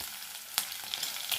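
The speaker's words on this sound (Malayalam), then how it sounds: "ഇതെല്ലാം ഇട്ട് ഒന്ന് വഴറ്റുക." Green chilli, ginger and onion sautéing in oil for Udupi upma, a steady soft sizzle with a brief clink or stir partway through, close and alone.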